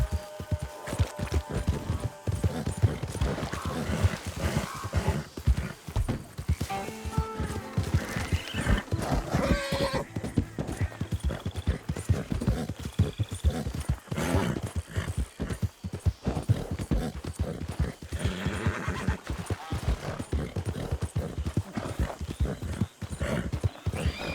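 Horse hooves clip-clopping at a steady gallop with occasional neighs and whinnies, close and loud throughout, ridden in the Western video game Red Dead.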